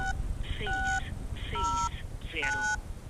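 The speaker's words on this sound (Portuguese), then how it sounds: "vamos ligar aqui para ver se funciona, né?" Telephone keypad tones beep in three short bursts of dialing, loud and close, with a brief pause between each group and a steady background hiss; no talk during the tones.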